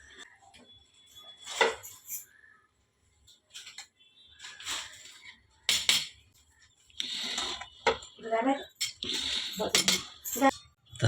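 A steel plate is taken for a poha breakfast in a home kitchen, sending out scattered sharp clinks and clatters of dishes and cutlery in irregular bursts, with quiet pauses and a faint voice now and then.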